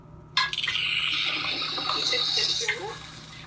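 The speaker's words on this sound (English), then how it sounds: "The pump was already turned on to fill up the main display." Salt water rushing from a pump into the main display tank of a Red Sea Max 400 aquarium, a steady broadband gush that starts abruptly and runs continuously, with a low mains hum beneath.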